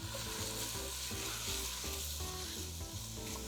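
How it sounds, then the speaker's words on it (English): Vegetables and onion sweat in a soup pot, giving a steady, close sizzle with soft stirring noises running throughout and no voices. "I always add a pinch of salt when I'm sweating my vegetables"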